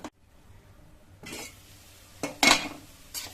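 A spoon scrapes and clinks against a metal pot while boiled eggs are stirred into egg curry, with short clattering bursts between quiet gaps and a faint sizzle underneath.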